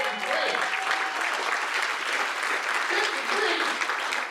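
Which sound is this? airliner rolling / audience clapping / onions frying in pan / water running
audience clapping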